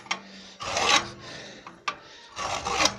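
Steel sheet edges being filed clean after angle-grinder cutting, heard as close, loud rasping strokes in three bursts with brief pauses between, no voices.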